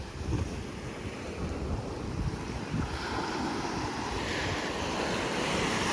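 Ocean surf at Kuda Beach washes and roars continuously, heavily buffeted by wind rushing across the microphone, with no talking.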